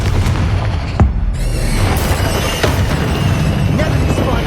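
A Confringo spell explosion in Hogwarts Legacy lands as a sudden booming blast early on, inside dense, loud, continuous battle noise.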